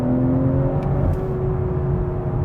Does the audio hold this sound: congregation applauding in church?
no